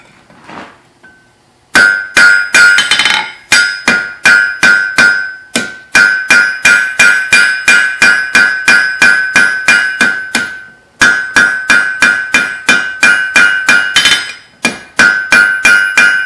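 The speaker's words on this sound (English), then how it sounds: "We'll just give it a few taps with the hammer" A smith hammers hot steel on an anvil while forging a hook, striking dozens of quick, bright, ringing blows in steady rhythmic bursts. Each burst has short pauses between strikes. The hammering is close and very loud, and no one talks.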